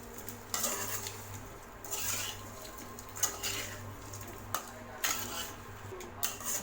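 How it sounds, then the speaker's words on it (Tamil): Steamed rice flour balls are stirred in a pan, quiet scraping with regular clinks of a spoon against the pan, about once a second, and soft rustling between. "சேர்த்துட்டு இதில் லேசாக மிக்ஸ் பண்ணி விடுங்க"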